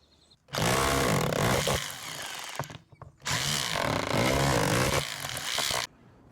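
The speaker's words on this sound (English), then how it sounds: "I like to use the Bosch Bulldog here." A Bosch Bulldog rotary hammer breaks out exterior house stucco around holes cut by a beekeeper, in two loud, sustained hammering bursts with a short pause between them, close up and with no talking.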